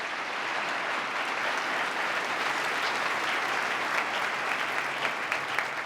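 A full room claps for a Reverend and a Rabbi after their blessings at a State of the State address, a steady, even wash of applause that holds at a constant level from start to finish.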